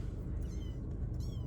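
Kittens meowing close by, a few short high-pitched mews over a low steady background hum, moderately loud with no talking.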